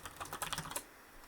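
A quick burst of keystrokes on a computer keyboard, about a dozen fast taps in under a second, close and fairly quiet, then stillness.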